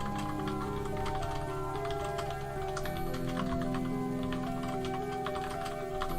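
Continuous fast typing on a mechanical keyboard, with dense clicking keystrokes over a steady background hum.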